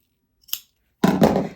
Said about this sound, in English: I'm just going to trim back any excess here before I do the next step